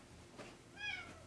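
A house cat meows once, faint and somewhat distant, over a low steady room background with no talking.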